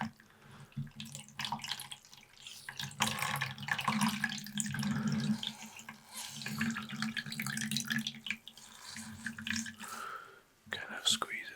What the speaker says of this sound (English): I have a little rag here, and all we're going to do is we'll get it wet here first